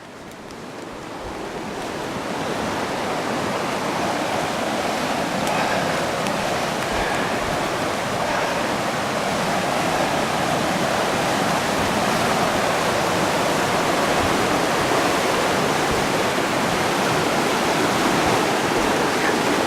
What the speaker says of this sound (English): Another stream bubbling up out of the ground.